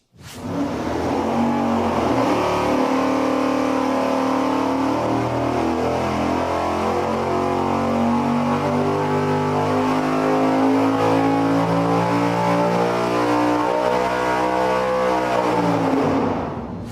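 An engine in an Engine Masters test build runs hard on a dynamometer, a loud sustained roar with rising harmonics through a steady pull that holds for most of the run before cutting off at the end.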